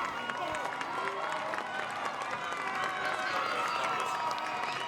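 A roadside crowd cheers and claps for runners at the Great North Run half marathon, forming a dense, continuous wash of crowd noise that stays level throughout at a distance.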